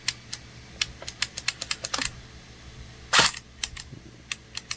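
Hydro Strike Pulsar Pro gel blaster toy firing on semi-automatic, a quick run of sharp close clicks followed by one longer burst and a few more clicks.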